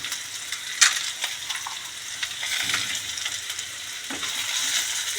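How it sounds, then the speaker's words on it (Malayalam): Chillies hitting hot sesame oil with garlic in a pan, a bright crackling sizzle with sharp spits and a few stirring clicks, close and fairly loud over about five seconds. "അപ്പോൾ ഞാൻ ആദ്യം കുറച്ച് മുളകിടുന്നുണ്ട്."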